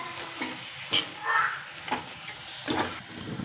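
Whole spices being sautéed and stirred in a pan for a Marathi-style vakti fish curry, with a steady low sizzle broken by several sharp scraping stirs of the spoon, close and alone without talk.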